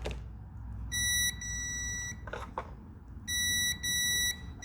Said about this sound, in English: Let's go ahead and do a quick continuity test on this.